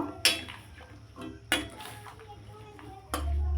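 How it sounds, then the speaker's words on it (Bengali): Cut pumpkin pieces go into a pan and are stirred, with a few sharp metallic clanks of spoon on pan and softer scraping between them, close and fairly quiet. "যে কুমড়োগুলো ভালো করে কেটে ধুয়ে রেখেছি এগুলো দিয়ে দেবো ভালো করে নেড়ে নেব"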